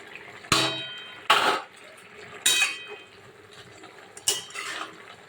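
Fried fritters are dropped one by one into a pan of spinach curry with potato and raw pumpkin, making four distinct close clanks of spoon on pan followed by wet splashing.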